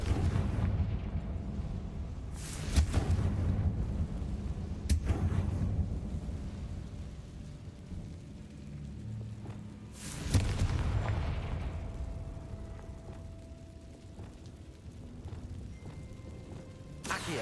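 Confringo fire spell blasts in Hogwarts Legacy, a few sharp explosive bursts spaced seconds apart over a steady rumbling game backdrop, moderately loud with no talk.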